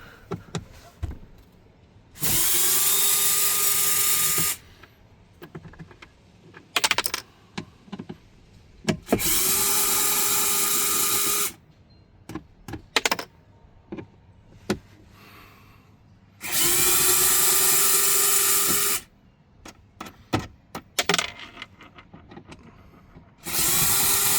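A Snap-On Nano Access power driver runs T15 fasteners in a car interior: four loud bursts of whirring motor, each a few seconds long, separated by clicks, clatter and handling noises.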